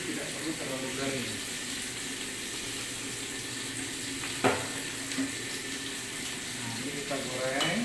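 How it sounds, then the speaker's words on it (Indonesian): Salted fish fries in a modest amount of oil, giving a steady, even sizzle throughout with a faint muffled voice in the background. "Ikan asinnya kita goreng dengan minyak, tidak usah terlalu banyak"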